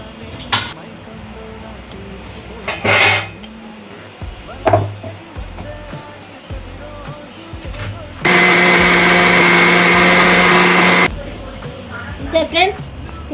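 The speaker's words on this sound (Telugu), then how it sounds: "మిక్సీలో బాగా మొత్తగా నూరుకోవాలి నీళ్ళు రెండు పోసుకొని నూరుకోవాలి" A mixer grinder whirs loudly for about three seconds, grinding a spice paste with water for country chicken curry, preceded by scattered kitchen knocks and clatter.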